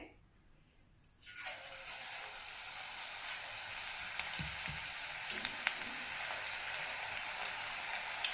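After a quiet moment, onion pakoda batter drops into hot oil and a loud, close crackling sizzle takes over, continuing steadily with occasional pops.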